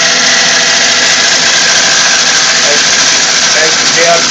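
Wood lathe rough turning a barked blank with a gouge, a loud continuous broadband roar of cutting with steady motor hum and occasional brief squeals, unbroken throughout with voice faintly underneath.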